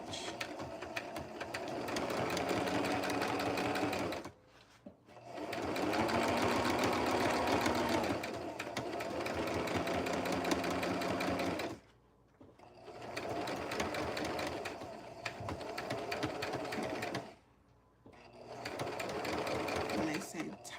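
A sewing machine back stitching a vest seam runs in several long bursts of steady rapid whirring, separated by brief pauses, close and clear.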